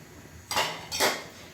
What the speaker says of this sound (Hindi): ये साथ साथ ही मैं डालूँगी, साथ साथ ही मैं चम्मच चलाऊँगी ताकि कोई भी लम्स वगैरह ना बन सके।